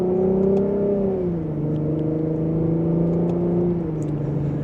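A 2025 Lexus IS 350 in sport mode pulls hard in second gear, its engine note rising steadily in a loud, continuous cabin drone with no talking over it.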